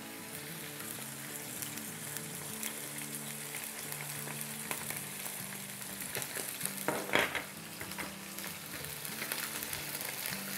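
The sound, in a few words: chicken frying and being stirred with garlic and ginger paste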